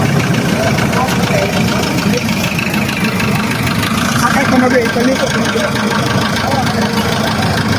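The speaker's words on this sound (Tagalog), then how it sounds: "napaganda pa nung andar ng makina" A farm hauling vehicle's engine idles loudly and steadily throughout, a constant mechanical rumble with voices mixed in.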